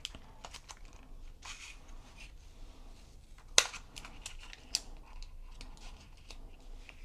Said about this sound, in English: I'm actually going to use scissors this time